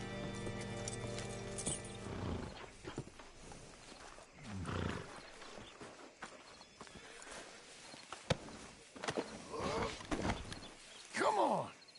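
Horse hooves clip-clop in a Western video game, irregular close footfalls mixed with game ambience, music and brief voices, with a louder burst near the end.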